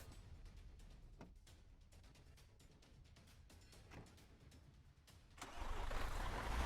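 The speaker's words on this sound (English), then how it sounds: "let's go ahead and hop in a truck here and go find that." A truck engine in the Arma Exile video game cranks and catches after several seconds of near silence, then settles into a loud, rough rumble.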